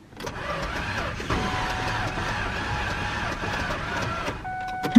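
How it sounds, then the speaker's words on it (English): With its spark plugs removed, a Ford Ranger engine cranks over on the starter in a continuous, even whir that lasts several seconds and is heard up close, with little sign of compression. "Kind of cranking. Doesn't sound like it has any compression though."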